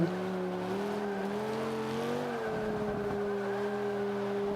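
A 2005 Honda NSX in Forza 5 brakes hard: a steady engine drone slides down in pitch as the car slows, with faint tire scrub, loud and close, no voices.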